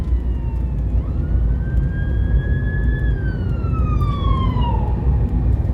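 A Lancashire ambulance siren wails in slow rising and falling sweeps, moderately near, above a constant heavy engine and road rumble.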